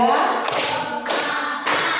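Rhythmic group hand clapping in a classroom clap-count routine, sharp synchronized claps landing in three bursts about half a second apart, close and loud.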